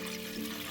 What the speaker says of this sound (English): So I'm going to add my water.